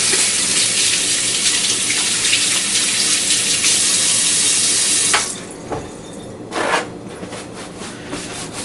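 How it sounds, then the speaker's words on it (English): A tap runs steadily as hands are washed under the water in a kitchen while a steak is being prepared, a loud, continuous rush for about five seconds that cuts off, followed by faint splashes and handling sounds. "I'll give my hands a quick wash."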